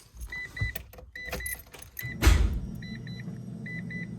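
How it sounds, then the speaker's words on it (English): A Mazda RX-7 FC's fuel pump whirs up and keeps running, steady and electric, after a few chime-like beeps at key-on, close and moderately loud inside the car. "That fuel pump is loud."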